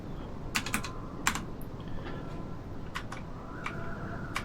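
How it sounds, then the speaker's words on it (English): Computer keyboard keys clatter in quick irregular clusters of sharp, close clicks, with quiet gaps between bursts of typing; no one speaks. "I just pressed the Alt keys, and suddenly all the keys started working again"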